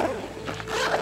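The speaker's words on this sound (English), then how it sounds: "Let's try what the zipper is on this one." A zipper on a 36-inch Voodoo Tactical rifle case is drawn open in one steady, fairly loud rasping pull close to the mic, with no speech over it.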